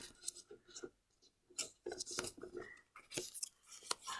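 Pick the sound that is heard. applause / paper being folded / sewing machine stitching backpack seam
paper being folded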